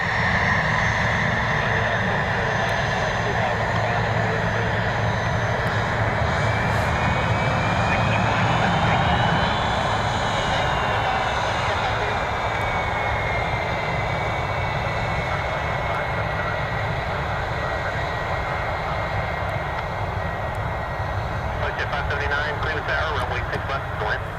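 A FlexJet Challenger business jet lands at a distance, a steady, broad jet roar with a faint rising and falling whine, heard outdoors under light wind and occasional talk.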